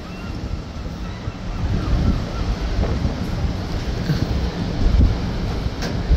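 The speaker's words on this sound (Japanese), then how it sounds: "ただ波が高い。" High ocean waves roll and surge continuously under strong wind buffeting, a steady loud roar at the seaside with a heavy low rumble and no talking.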